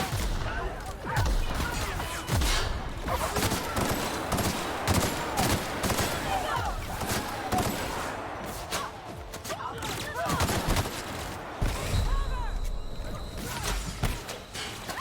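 Dense enemy gunfire fills a fight in the video game The Outer Worlds, rapid bursts and overlapping shots crackling continuously and loudly throughout, with brief whooshes and footsteps mixed in and a player's voice speaking over the battle.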